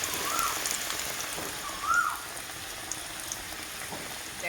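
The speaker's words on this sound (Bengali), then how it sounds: "এবার রান্নাটা শুরু করি, আলুটা ভেজে নিই।" Large potato chunks fry in a pan of hot oil, browning until crisp, giving a steady, faint broadband sizzle with a couple of brief brighter spatters.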